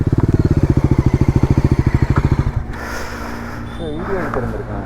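A motorcycle engine revs hard in rapid, evenly pulsing bursts, loud and close, then drops off to a lower rumble with some rattling and clatter.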